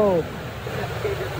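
Tiered waterfall at the PDAM tourist site in Jantho, Aceh Besar, a continuous broadband rush of falling water heard close by, with a brief voice at the very start.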